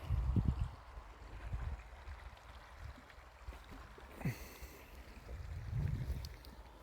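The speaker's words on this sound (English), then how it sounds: "and a wee river" A small river at Glen Kinglas flows beneath a bridge, a faint steady wash of water under gusty wind buffeting the microphone, with a few low thumps and no talking.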